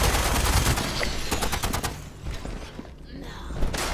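Gunfire in the Fallout 76 video game, a dense rapid burst of automatic shots up close that tapers into scattered thuds, with players talking briefly under the noise.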